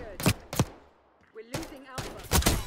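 Jackal PDW bursts in Black Ops 6, sharp close gunshot bursts in short groups, two quick shots, a gap, then a heavier run of rapid fire, with faint game sounds between.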